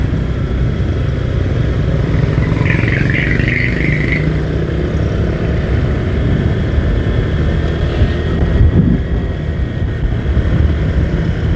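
A steady engine roar fills the clip, a Honda Vario 125 scooter droning loudly and continuously up close as it accelerates to overtake.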